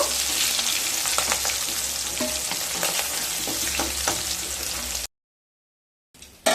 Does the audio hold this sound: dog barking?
no